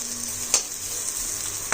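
Chopped onion and two or three green chillies sizzle in a pan, a constant close frying hiss with two sharp spatula scrapes as they are stirred.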